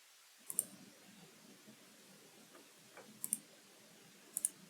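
Computer mouse clicking at a desk while running a Java servlet file, three sets of faint, crisp double clicks spaced a few seconds apart over a low, quiet room hum.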